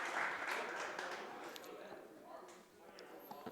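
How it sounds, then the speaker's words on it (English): Crowd murmur and scattered clapping at an Overwatch 2 LAN tournament, with a brief swell that tapers off. A commentator's voice talks over it. "Got a little bit of crowd noise."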